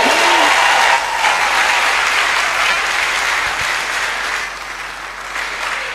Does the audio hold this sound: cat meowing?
no